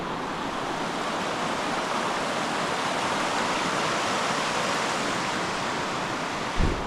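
A river rushes downstream toward the High Force waterfall along the Pennine Way, giving a steady, loud broadband roar of flowing water that holds unbroken throughout, with a brief knock near the end.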